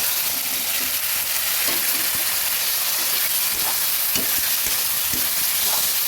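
Chopped tomato and three green chilies hit a pan of frying cumin and ground spice paste for a katla fish-head muri ghonto, giving a steady, loud oil sizzle with occasional soft clinks and stirs and no talking.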